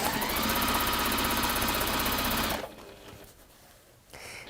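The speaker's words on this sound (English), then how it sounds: "Now you can just sew straight along the bottom." A sewing machine runs fast and evenly while top-stitching straight along fabric, a loud close whirring rattle that stops after about two and a half seconds before a short quieter mechanical whir.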